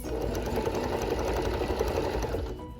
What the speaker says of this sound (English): there are no ripples as I sew my waistband